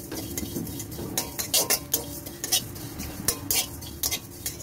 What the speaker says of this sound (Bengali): আমি সাদা জিরেটা ভেজে নেব